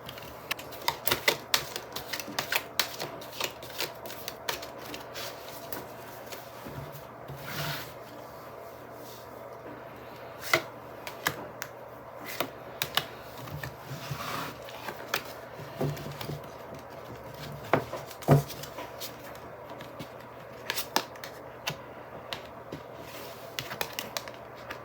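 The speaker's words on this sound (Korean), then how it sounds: "일단 여러분들을 위한 조언 카드 한번 뽑아볼게요." Tarot cards are shuffled and drawn, producing a long series of quiet, crisp flicks and taps in uneven bursts, with no one speaking.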